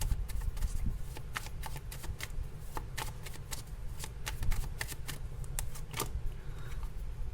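Tarot cards are shuffled by hand in a steady run of crisp, rapid riffling clicks and flutters, close and fairly quiet, with no talking.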